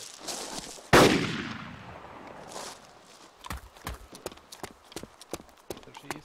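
Gunfire in ArmA 2 Wasteland: one loud close shot cracks and echoes away, followed by a string of quicker, fainter rapid shots or clattering impacts.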